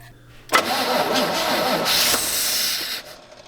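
An old GMC truck engine cranks and catches suddenly, then runs roughly and loudly for a couple of seconds with a hissing edge before cutting off, close by and alone.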